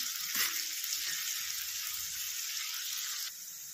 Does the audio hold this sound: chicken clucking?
no